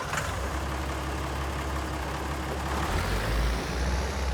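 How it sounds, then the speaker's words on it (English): A Deutz tractor engine in Farming Simulator 19 runs with a steady low diesel rumble and idle, heard alone and fairly loud throughout, with a slight rise in tone near the end. "And we will start this tractor up."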